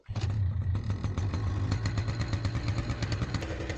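A paramotor engine starts before a winter flight: a sharp catch at the start settles into loud, steady, clattering running close by, with a low throbbing pulse throughout and no talk.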